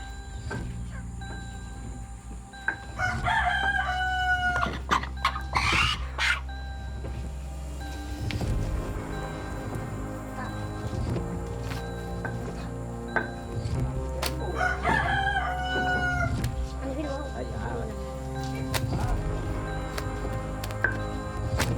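Chickens in an Indonesian Mentawai village: a rooster crows twice, loud and close, over a low mechanical drone with scattered faint clucks in between.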